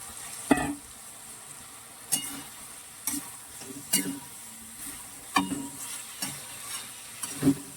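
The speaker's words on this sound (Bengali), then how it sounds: "এবার এর মধ্যে একটু মাছটা দিয়ে দেবো।" Fish cooks in a pan of tomato fried down with cumin and coriander powder, a low sizzle broken by a series of separate spatula scrapes and stirring strokes, roughly one every second; no talking.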